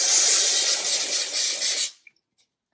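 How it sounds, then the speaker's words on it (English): Spray adhesive from an aerosol can, used in a sweatshirt embroidery project, gives a loud, steady hiss for about two seconds and then cuts off, followed by quiet and a faint click. "I'm bringing in my spray adhesive"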